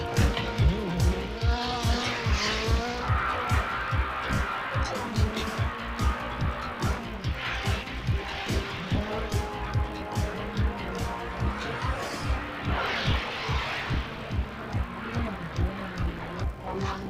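Race car on a hill climb course, engine rising and falling through repeated rapid gear changes, with tires squealing in several bursts through corners, loud and continuous throughout.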